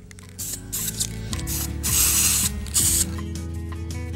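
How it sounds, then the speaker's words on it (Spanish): An aerosol can of acrylic finish hisses in steady bursts as it is sprayed onto a handmade wooden pen holder, loud and close with no talking. "Con un spray acrílico lo acabé y ya estaba listo."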